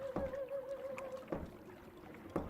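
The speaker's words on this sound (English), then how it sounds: "I'm hearing a lot of waves right now." Waves lap against a boat during night fishing, giving soft, regular thuds about once a second over a faint low drone and a steady tone, fairly quiet, with no talking.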